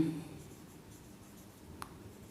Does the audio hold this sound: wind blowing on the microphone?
no